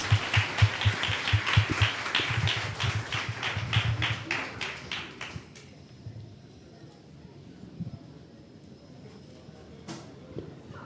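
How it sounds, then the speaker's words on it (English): A theatre audience gives a round of applause for a storyteller at a Season of Independence event. The clapping starts loud and dense, then tapers into a few scattered claps and quiet room noise. "let's give him another round of applause"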